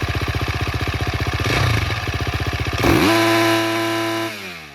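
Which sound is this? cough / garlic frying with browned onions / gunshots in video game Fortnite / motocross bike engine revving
motocross bike engine revving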